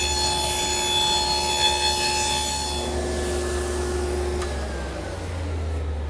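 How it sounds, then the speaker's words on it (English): A router cuts dovetail pins in wood on a dovetail jig, giving a loud, high, steady whine that shifts pitch partway through as the bit works the wood, with no talking. "I'll route the pins in the front"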